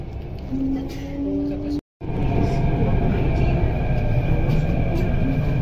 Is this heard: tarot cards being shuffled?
no